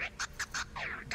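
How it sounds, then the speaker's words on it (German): Glider creatures in Star Wars Jedi: Survivor give a run of five or six short, bright, honking quacks, each a clipped burst with a falling squawk near the end, alone and fairly close. "Didi ist begeistert von den Rufen dieser Gleiter."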